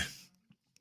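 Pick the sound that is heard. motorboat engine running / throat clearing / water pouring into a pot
throat clearing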